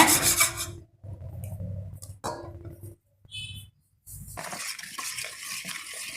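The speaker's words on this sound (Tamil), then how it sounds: "இதையும் நல்லா அடிச்சுக்கோங்க நல்லா கலந்து விட்டுக்கோங்க" Rose cookie batter of beaten egg and ground sugar with cardamom is whisked briskly in a bowl, scraping and rubbing in short uneven bursts broken by brief pauses, close up with no talking.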